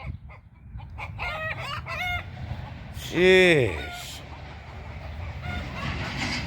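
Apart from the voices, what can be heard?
chickens clucking and rooster crowing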